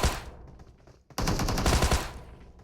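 Rapid automatic gunfire in PUBG Mobile during a solo-versus-squad match, a short burst, a pause, then a longer loud sustained volley of close shots.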